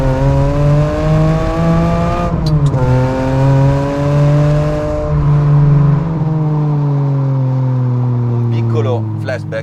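A Ferrari 550 Maranello's V12 with a manual gearbox drones loud and close in a steady tone. The pitch drops sharply once, as at a gear change, then climbs slowly again.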